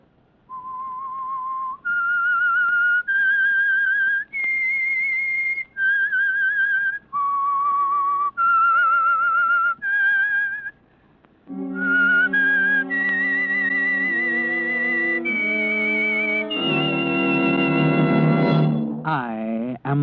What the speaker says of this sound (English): That whistle is your signal for the Signal Oil program